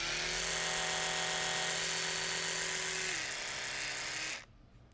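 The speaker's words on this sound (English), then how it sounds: "I'm going to turn on the Oral-B." An Oral-B electric toothbrush runs with a steady high buzzing whine. Partway through the pitch drops slightly, and then it switches off abruptly near the end, leaving near silence. No one speaks.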